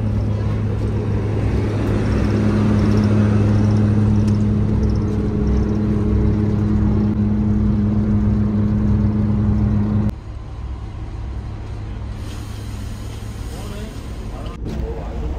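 A Mercedes-Benz semi-sleeper coach sets off from Madurai toward Chennai, its engine droning in a steady low hum with a whirring cabin rumble. The sound drops noticeably about two-thirds of the way through, and a voice talks quietly over it.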